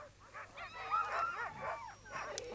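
Greenland sled dogs in East Greenland, 1965, barking and yelping together in a close, continuous chorus with rising, howl-like cries.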